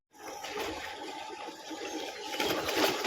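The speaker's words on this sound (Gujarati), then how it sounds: "પાણી ચાલુ ને ચાલુ છે એમાં" Water rushes steadily through a small stream channel near a forest ashram at the foot of Girnar, a continuous broadband gush that swells slightly toward the end, with no voices.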